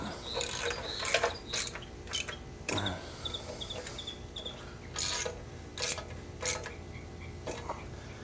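A 1/4 inch ratchet wrench snugs heat shield bolts on a Suzuki Forenza 2.0 litre engine, heard as short bursts of close ratchet clicking separated by pauses and small metallic handling sounds, with no talking.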